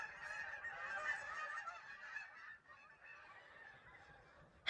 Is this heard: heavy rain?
no